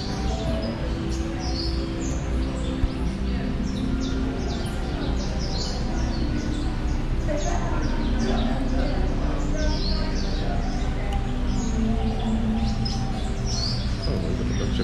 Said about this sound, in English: look at a bunch of birds down in here